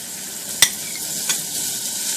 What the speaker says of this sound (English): in a small to medium sized saucepan, I've just got that heating up, and I'm going to add the butter